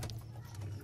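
Green-feathered Madras pigeon with deep red-brown eyes and a black beak cooing in a loft, a soft low droning coo that runs through the short moment at close range.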